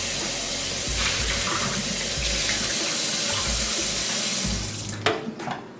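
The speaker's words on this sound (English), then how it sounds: "I'm gonna go ahead and rinse out my mason jar so I can go ahead and get my other set of rice going." Tap water runs steadily into a sink while a mason jar is rinsed out, a close, continuous splashing flow with sloshing shifts, ending in a few sharp clinks of glass.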